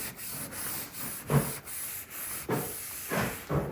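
Frame being distressed by hand with 220-grit sandpaper, close steady rubbing strokes in a regular back-and-forth rhythm with a few heavier swipes, no speech.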